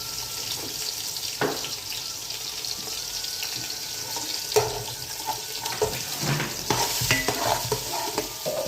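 Thinly sliced onions and green chillies frying in plenty of oil for a fish curry, a soft continuous sizzle broken by scraping stirs and a few clanks of a spoon against the pan.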